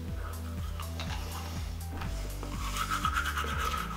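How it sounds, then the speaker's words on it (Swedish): A toothbrush scrubbing teeth with charcoal toothpaste, steady rhythmic strokes about twice a second, close and fairly quiet. "Jag ska hålla på och borsta i 3 minuter."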